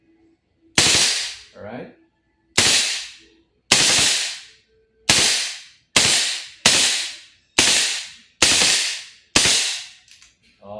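Redmantoys BCM MCMR MK2 airsoft gas blowback rifle firing about eight sharp, loud single cracks at a steady spaced rhythm, each followed by a quick decaying hiss, with a brief spoken word near the start.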